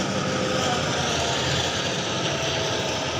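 A Mahindra Arjun 655 tractor engine runs hard under load while hauling a trolley, a loud, steady drone with a low rumbling throb that holds without a break.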